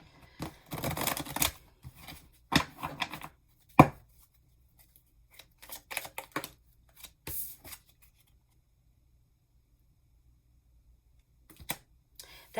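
Tarot cards being shuffled by hand during a reading, several short crisp riffling bursts separated by pauses, close and fairly quiet, with a long silent gap before a final brief shuffle.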